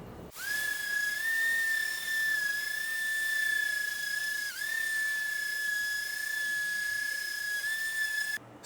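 An electric sander runs lightly over primed furniture with 180-grit sandpaper, giving a steady high whine over soft hiss. It starts and stops abruptly and plays alone with no voices.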